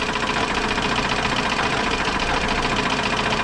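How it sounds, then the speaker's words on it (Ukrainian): A GAZ-21 Volga car engine, converted to gas, idles nearby with a steady, rapid knocking beat running through the whole stretch, no talking. "Ну, стучить. Стучить мотор."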